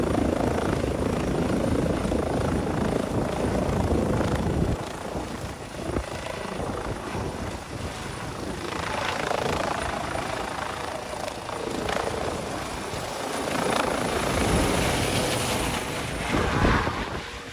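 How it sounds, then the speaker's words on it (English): A small helicopter takes off close by, its rotor and engine making a loud, steady thumping roar that keeps going the whole time, with a slight swell near the end and no voices. "A close-up footage of this small helicopter taking off."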